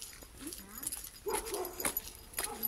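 A dog gives a few faint yips and whimpery barks in a rural Hong Kong garden, scattered short bursts at a distance with quiet background.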